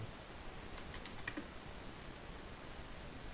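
Quiet, rapid keystrokes on a computer keyboard, a short burst of soft clicks over steady low room noise.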